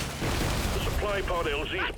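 Rapid bursts of explosions and gunfire from the video game Deep Rock Galactic: Survivor rumble steadily through the whole stretch, with someone speaking over the busy combat noise.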